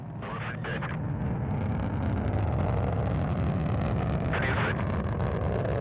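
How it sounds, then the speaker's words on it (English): The first-stage engines of a Soyuz booster roar continuously at liftoff from a launch site in the Kazakh desert. The thunder is steady, broad and rumbling, with wind-like buffeting and faint announcer voices mixed underneath. "Thrust on the first stage engines."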